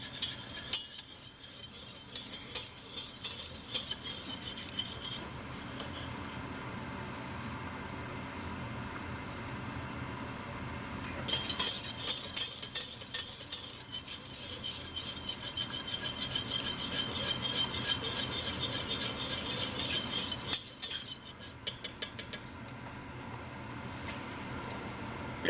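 Flour and fat cooking into a roux for enchilada sauce, bubbling as a spoon steadily scrapes and stirs the pan; rubbing, scraping strokes run throughout and grow louder in two longer bursts, with no talk.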